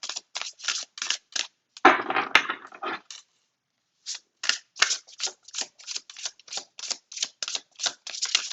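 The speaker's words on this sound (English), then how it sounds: "Just gonna shuffle one more time." A deck of tarot cards is shuffled close up in quick riffling bursts, with a denser ruffle near the start, a short pause, then rapid rhythmic card slaps continuing to the end.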